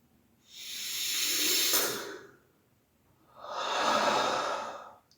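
A person slowly exhales and then draws in a long breath, two soft, close airy swells separated by a brief pause, with no talking.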